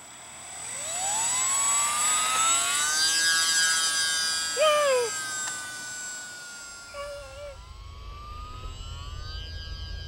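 A small E-flite UMX J-3 Cub RC plane's electric motor whines as it flies on its maiden flight, rising and falling in pitch as it passes, with wind noise toward the end.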